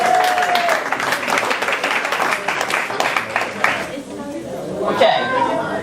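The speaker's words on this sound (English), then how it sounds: "Let's give Art a round of applause." Crowd applause for Art Sabelli at a Somerset County Democrats election night gathering, dense clapping mixed with chatter and a chuckle, fading near the end as voices and a brief whistle-like squeal take over.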